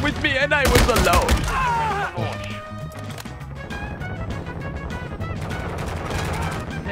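Shotgun-style weapon fire in Call of Duty Modern Warfare 2's battlefield game mode: a heavy cluster of blasts early on, then steady game noise and tonal effects, with a voice talking throughout.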